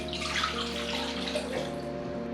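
Young coconut water poured through a single strainer into a container, a steady close trickling splash without pause, against a low background hum.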